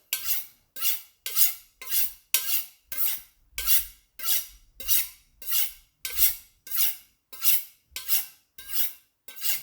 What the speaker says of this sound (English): Let's just sharpen it really quick